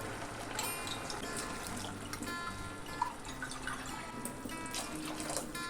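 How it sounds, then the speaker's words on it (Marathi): Water pours steadily into a pot of misal curry, a continuous close trickle and splash with small drips over a low kitchen background and no talking. "आपल्याला ही मिसळ पावासोबत खायची आहे, त्यामुळे आपण त्याच्यात पाणी घालणार आहोत."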